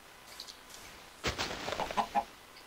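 A Minecraft chicken gives a short run of soft clucks near the end, with a few faint background game noises.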